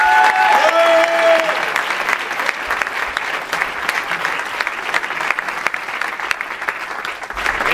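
An audience at a village variety show applauds strongly, a loud sustained roar of clapping with a brief tone at the start and crowd murmur mixed in.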